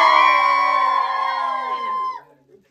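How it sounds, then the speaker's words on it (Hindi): Children in a village let out a loud, sustained, high-pitched shout together for about two seconds before it cuts off. "चिल्लाओ जोर से।"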